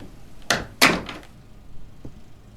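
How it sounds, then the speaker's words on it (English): Two loud wooden thuds from a door opening in the game Sagebrush, close together and near, followed by a faint creak or knock after a short pause. "Was that the door that made that much noise?"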